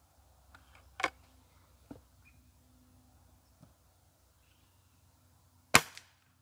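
A few sharp, isolated shots from a Rossi Dione 5G air rifle crack out through a chronograph in a quiet room, with softer ticks between them and a louder final shot near the end.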